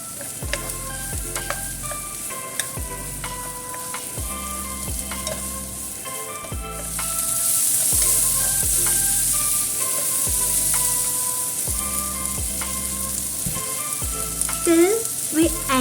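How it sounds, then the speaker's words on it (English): Peppers and onions stir-fried in a pan, a steady sizzle that swells louder midway, heard beneath rhythmic background music with a pulsing beat. "Then we stir fry the peppers with onions."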